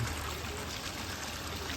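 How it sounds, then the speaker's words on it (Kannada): Rainwater pours steadily into a flooded area, a dense, continuous rushing wash of water at moderate volume, with no voices. "ಇಲ್ಲಿ ಹೆಂಗೆ ನೀರು ಹೋಗ್ತಾವ ಒಳಗೆ"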